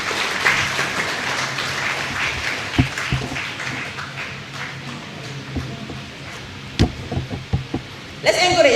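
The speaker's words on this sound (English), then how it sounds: "And an applause for our poet from the UK." Audience applause for a visiting poet from the UK at a book launch event, a steady spread of clapping with a few sharper claps standing out, lasting several seconds without talk.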